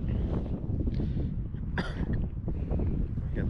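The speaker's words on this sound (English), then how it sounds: "got this dang wind" Steady wind buffets the microphone outdoors at a river during fly fishing, a constant low rumbling roar with gusting swells throughout, no talk.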